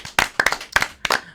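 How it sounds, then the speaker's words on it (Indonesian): A small studio audience at an Indonesian talk show claps in short bursts. The sharp, close hand claps come in an uneven rhythm over about a second and a half, with no talking. "Tepuk tangan dulu buat kita semuanya dong."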